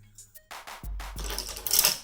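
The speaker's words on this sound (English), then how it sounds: "that noise you hear is me moving some of my brushes that are placed to the side of the camera" Paint brushes being shifted about beside a camera at an artist's drawing desk: a few close, soft clattering knocks and rustles, brief and unvoiced, with no talking.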